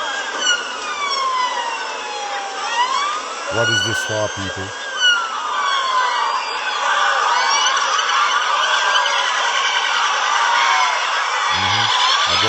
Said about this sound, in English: all siren you can hear in the background